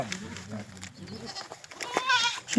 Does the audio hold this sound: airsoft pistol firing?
no